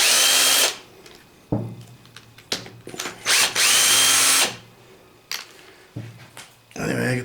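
A power tool spins bolts out of a Tremec T5 transmission case, loud close bursts of high whirring that start and stop repeatedly, with short clanks and quiet gaps between runs.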